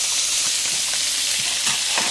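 Butter sizzling and frying in a hot pan, a steady close hiss with crackling pops throughout, no voices.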